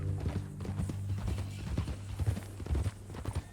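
Horse hooves clip-clopping in the video game Red Dead Redemption 2, a steady walking rhythm of close, clear hoof strikes over a low droning music bed.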